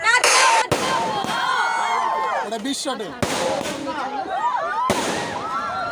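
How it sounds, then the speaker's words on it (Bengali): Fireworks set off at an office picnic at a resort: several sharp, loud bangs and crackling bursts spread through the clip, with whistling streaks and people's voices and cheering in between. "ডিজে শেষ করেই হবে আতশবাজি ফোটানো"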